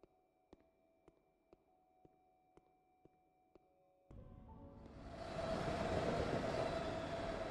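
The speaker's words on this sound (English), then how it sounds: "Obviously, a train station." Dark train station ambience from the game When The Darkness Comes: a steady low hum with faint periodic clicks, then a rising rumble like an approaching train swelling loud near the end.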